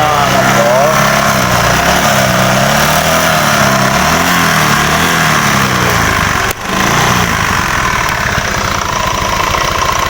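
A motorcycle engine with a worn, loose piston idles steadily up close, running loud and continuous with a rough, knocking rumble and a brief dip partway through.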